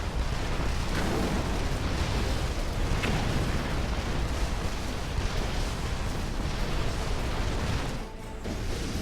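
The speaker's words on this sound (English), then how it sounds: "Desolator airstrike." Desolator airstrike explosions in Command & Conquer: Red Alert 3, a dense, continuous roar of blasts and rumbling debris that stays loud throughout, dipping briefly near the end.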